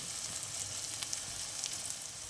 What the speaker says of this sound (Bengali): পেঁয়াজটা লাল লাল করে ভেজে নেব আমি চার কোয়া রসুন কুচি নিয়েছি দিয়ে দেবো